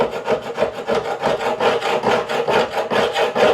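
Repeated close scraping strokes of a scraper over wood on a Warwick Corvette Double Buck bass neck, loud and evenly rhythmic, a dense rasping texture heard alone with no talk.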